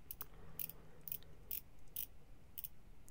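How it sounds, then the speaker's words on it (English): A ceramic watch bezel with a 120-click action turns in a series of crisp, sharp clicks, spaced about half a second apart, close and fairly quiet with no talking. "So it's 120 click. Nice clicky action."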